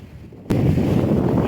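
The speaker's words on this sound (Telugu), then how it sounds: "నా వాయిస్‌ని డామినేట్ చేస్తుంది సముద్రపు గాలి, కెరటాల సౌండ్ ఇదంతాను" Strong sea wind buffets the microphone on Bhavanapadu sand beach, a loud rumbling roar that starts abruptly and carries the wash of waves beneath it.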